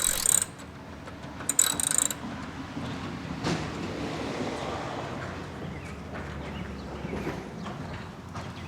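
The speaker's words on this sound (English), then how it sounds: "we first need to unbolt our air inlet for our air filter housing assembly. This is held on by two 10mm bolts." Ratchet loosening 10mm bolts on the air inlet of a 2003 Toyota Camry engine bay, with brief bursts of clicking ratcheting near the start followed by quieter handling and faint mechanical noises.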